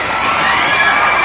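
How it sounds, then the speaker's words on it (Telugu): A school crowd clapping and cheering at a high school, loud and dense with children's shouts and applause blended into one continuous roar, close and unbroken. "క్లాప్స్ అది."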